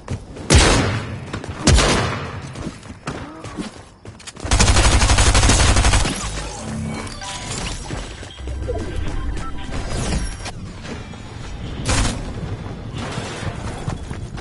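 Loud gunfire rattles through a Fortnite match, with sharp single shots, a long sustained burst of automatic fire and scattered crashes and impacts, all close and punchy.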